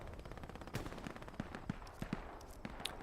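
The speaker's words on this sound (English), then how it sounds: "his buddy just took a shot" Scattered gunshots in a Hell Let Loose multiplayer battle at Kursk, about ten separate sharp cracks at irregular intervals, fairly faint and distant over a busy battlefield bed.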